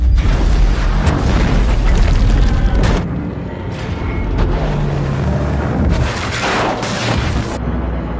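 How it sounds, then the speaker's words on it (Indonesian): The Orca aircraft exploding in a film: a loud, deep rumbling blast that roars continuously, then gives way to a long crackling, booming aftermath of fire and debris. "membuat Orca meledak, kemudian jatuh terbakar"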